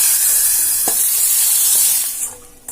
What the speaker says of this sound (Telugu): తాలింపు ఇందులో వేసేసుకోవడమే